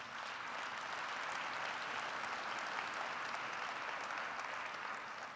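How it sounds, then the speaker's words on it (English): Steady, even audience applause from a keynote crowd at an annual meeting, a broad wash of many hands clapping at moderate distance, sustained without a break. "you guys deserve to give yourselves a round of applause on that"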